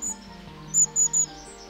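A small tit bird gives a high-pitched, fussy call of three quick, thin chirps in a row, clear and fairly close, with a faint earlier peep and no talking.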